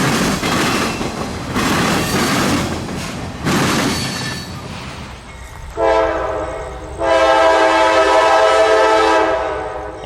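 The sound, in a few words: CSX Q453 southbound freight train passing, sounding horn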